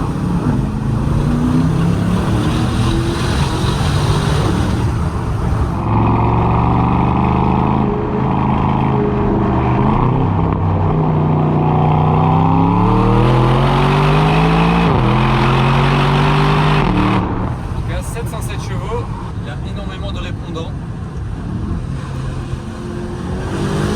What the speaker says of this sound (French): L'échappement est bien ouvert. On va voir s'il sonne un tout petit peu contre la paroi rocheuse